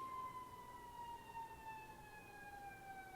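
A wailing siren drifts steadily downward in pitch, heard from a moderate distance over a low rumble of traffic.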